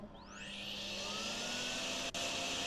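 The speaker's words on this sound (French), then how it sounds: "là, ça part en aspirateur d'eau, les gars" Water vacuum tool in the video game Drain Sim, a loud steady suction roar that starts with a rising whine and then holds, with one brief cut near the end.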